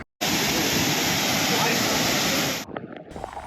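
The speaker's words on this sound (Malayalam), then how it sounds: "ലക്കം വാട്ടർഫാൾസ്." Lakkam waterfalls in Eravikulam National Park give a loud, steady broadband roar of rushing water for about two and a half seconds, then cut to quieter ambient sound with faint voices nearby.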